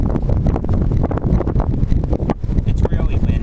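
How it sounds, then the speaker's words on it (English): Strong gusty wind buffets the microphone outdoors beside a SilverFire Survivor rocket stove, loud low rumbling surges throughout, with a voice heard partly under the noise. "It's really windy, so probably not getting no volume."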